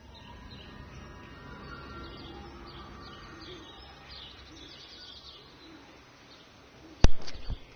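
Soft bird calls, cooing and chirps drift through the ambient soundscape of the game Everyone's Gone to the Rapture, a steady quiet wash ending in a sudden sharp loud knock near the end.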